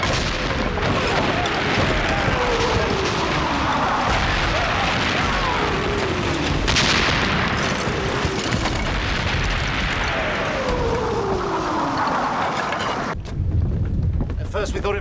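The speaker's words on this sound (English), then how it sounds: "That is cannon." Low booms of distant cannon fire roll repeatedly under a constant loud roar of wind and sea, muffled and far away, in the Hornblower drama.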